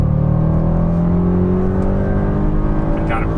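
An Audi RS6 Avant engine revs and pulls hard under acceleration, a loud, steady rising drone with strong low harmonics heard from inside the car, no talk over it.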